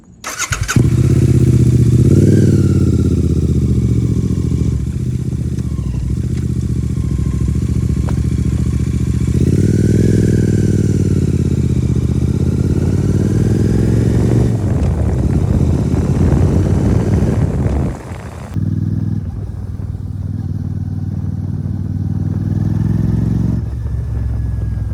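A Royal Enfield Super Meteor 650 motorcycle fitted with a heel-toe shifter roars loudly and close, its engine climbing and falling through gears as it rides, then settling to a lower throb near the end.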